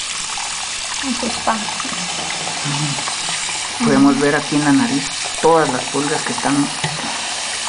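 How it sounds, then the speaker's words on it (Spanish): Warm water running and splashing while a rescued puppy is bathed, a steady hiss of flowing water throughout with people talking over it. "se le está bañando con agüita caliente"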